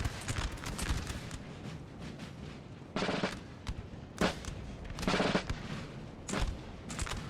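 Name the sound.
musket gunfire, friendly fire in the video game Napoleon Total War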